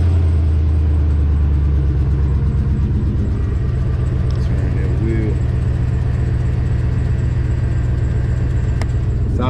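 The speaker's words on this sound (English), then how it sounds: "Fire that truck up one time." A Chevy truck engine starts up and settles into a steady, loud running rumble that lasts throughout, with a few brief metallic clinks and a faint voice in the background.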